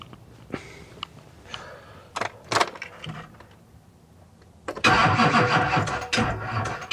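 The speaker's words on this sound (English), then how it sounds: "So we'll go and see if the truck will start." Truck engine being started with a Lokithor portable jump starter: a few clicks and clunks, then the engine cranks and catches into a loud, steady running rumble close by.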